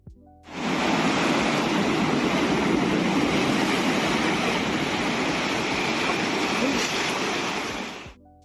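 Sea waves break and wash steadily onto a beach beside a coastal path near Porto, a loud, continuous roar of surf that rises in and holds without pause.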